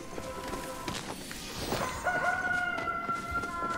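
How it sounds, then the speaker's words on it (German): A rooster crows in the video game Palia, a drawn-out cock-a-doodle-doo rising clearly over a busy background of soft game ambience and scattered clicks. "Wieso kikerikiert der Hahn jetzt hier bei 3 Uhr morgens?"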